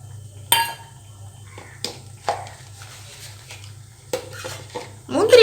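About ten cashews roasting in a pan for sweet pongal, heard as intermittent scrapes and clinks of a spoon stirring against metal, with a louder scrape at the end over a low steady hum.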